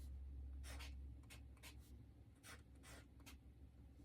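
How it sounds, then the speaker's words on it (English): Soft, close scratches and strokes of a brush pen writing a single word on paper, several short bursts in quick succession over a low background hum, with no one speaking. "I'm just going to write peach."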